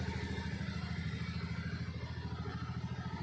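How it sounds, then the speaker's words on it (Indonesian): A Honda Scoopy FI scooter engine idles after a repair to chewed ignition coil wiring, a steady, quiet rhythmic putter with fast even pulses throughout. "di sini motornya sudah hidup kembali"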